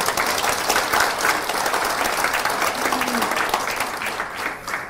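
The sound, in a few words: audience applause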